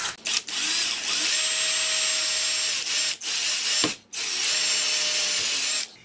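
A dull bit drilling a hole while mounting an outdoor TV antenna kit: a loud, steady power-drill whine running in several long bursts, with brief stops between them.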